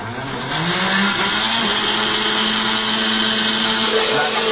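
A kitchen blender kicks on after a brief moment and runs with a steady, loud motor whine and whir that holds evenly to the end, close by.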